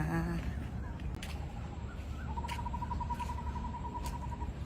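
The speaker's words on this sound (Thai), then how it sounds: "เสียงธรรมชาติ เสียงนก เสียงการ้อง ได้ยินไหมคะเพื่อนๆจ้า" Birds call outdoors in a quiet natural setting: a few faint, drawn-out hooting notes ring out over a soft background hiss, with one long sustained call near the end.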